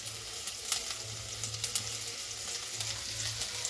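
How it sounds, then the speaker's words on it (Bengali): Chopped garlic and ginger fry in melted butter and oil, giving a steady close sizzle with light crackle and occasional stirring scrapes throughout. "এটা একটু ভাজা ভাজা হয়ে যাবে।"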